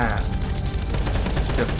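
Continuous automatic gunfire from CROWZ Squad Operation runs loud and steady through a dense mix of game noise, with a player talking over it.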